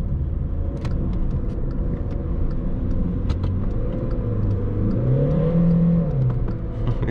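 A VW Polo 1.6 TDI with a seven-speed DSG gearbox drives through a city. Its engine drones steadily inside the car, with the pitch dropping and rising again as it downshifts partway through.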